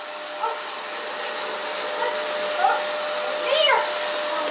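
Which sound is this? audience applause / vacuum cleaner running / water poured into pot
vacuum cleaner running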